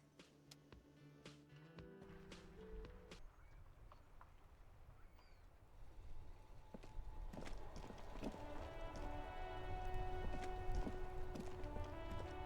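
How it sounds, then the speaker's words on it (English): Rain falls in the video game Disco Elysium, a steady soft patter that grows louder over time beneath quiet tonal music and scattered sharper drops. "It's raining again."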